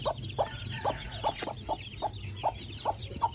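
Young chicks, one of them a black bantam chick, peep and cluck in regular short calls, close and moderately loud, with a sharp brief squawk partway through and no talking.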